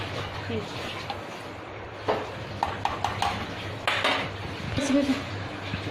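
Chole curry stirred in a pot, a spoon scraping and clinking against the metal in irregular bursts over a steady background hum, with a voice talking now and then.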